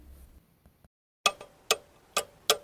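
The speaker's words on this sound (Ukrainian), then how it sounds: "цокання годинника" A clock ticks close and clear, five sharp evenly spaced ticks after a moment of near silence.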